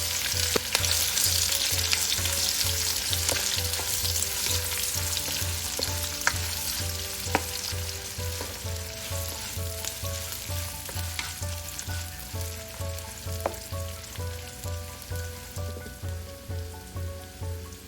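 Medium onion, a red chili and fenugreek seeds fry in hot oil for a Nepali asparagus curry, a loud, close crackling sizzle that eases slightly over time, with a regular low thumping pulse underneath and no speech.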